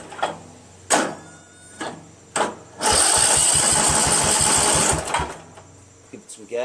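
A Craftsman 13.5 mid rear engine riding mower is started: a few short separate cranking bursts, then a loud, steady mechanical chugging with clear fast rhythmic pulses for about two seconds before it cuts off and quiets.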